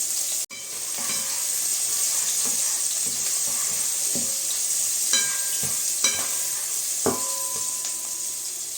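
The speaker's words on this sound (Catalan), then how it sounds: "posem a sofregir un pebrot tallat ben petit" Finely chopped bell pepper fries in a pan with a steady, close hiss of sizzling oil, punctuated by a few clinks and scrapes of stirring.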